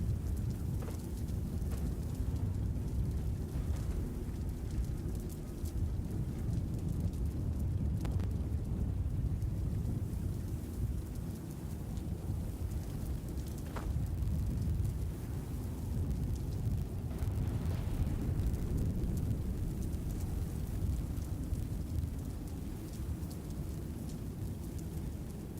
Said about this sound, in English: Ooh, it does look nice, that thunder.